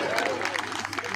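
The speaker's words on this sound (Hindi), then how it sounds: "सब सारे वीआईपीज़ के लिए जोरदार तालियां" Comedy-show audience applauding seated VIPs, a brief dense burst of many hands clapping with crowd murmur mixed in.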